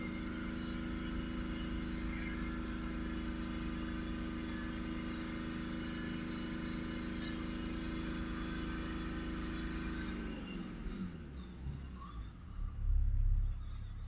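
A BMW 525D diesel with a blocked particulate filter is held at a steady raised speed, around 3000 RPM, droning evenly for about ten seconds before the revs fall away toward idle. It is close and loud, with no talk.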